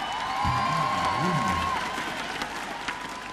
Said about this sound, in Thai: ขอเสียงปรบมือให้อาจารย์อ้อนะครับ